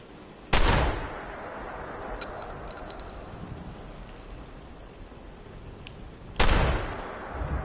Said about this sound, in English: A lot of these ghouls, they get butchered by these two machine gun turrets.